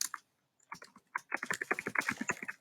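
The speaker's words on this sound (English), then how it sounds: "I'm just gonna type a little bit." A computer keyboard clatters under quick fingers, a few isolated keystrokes at first, then a brisk, uneven run of close, crisp taps with no talk.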